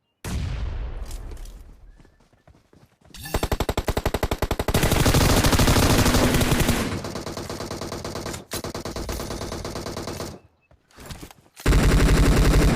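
Loud bursts of rapid M249 machine-gun fire in PUBG Mobile rattle in long sustained volleys, broken by brief pauses and sudden restarts, with no talking.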